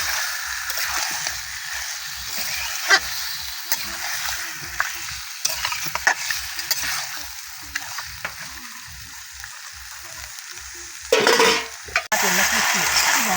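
Duck meat braises in a pan with a bright, continuous sizzle while it is stirred, with scattered scrapes and knocks throughout and a burst of louder sloshing and clatter near the end.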